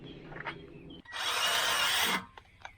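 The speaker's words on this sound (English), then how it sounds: "I don't know if you're allowed to drill a hole in my frame." A power drill bores a hole into the steel ladder frame of a Land Rover Discovery 3, one loud steady whine lasting about a second, close by, with faint workshop sounds around it.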